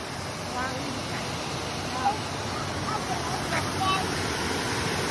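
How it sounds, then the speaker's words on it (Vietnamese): Flowing water like a small waterfall seen from a bridge in the mountain town of Szczawnica, a continuous broadband rushing wash with light wind buffeting, steady and fairly loud, with a few faint voices in the background. "họ làm như kiểu thác nước đấy nhỉ?"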